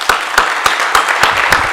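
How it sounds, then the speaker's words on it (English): Audience applause at a talk on South Africa's democratic transition, a sparse, steady patter of clapping with a few sharper claps standing out at regular intervals, moderately close and without talk over it. "Can we please give him a round of applause?"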